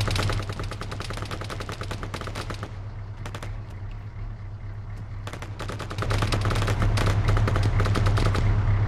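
Arma 3 combat: rapid bursts of automatic gunfire, loud and close, rattle on in long sustained strings with only a short pause, over a constant low vehicle engine rumble that grows louder toward the end, with no talking.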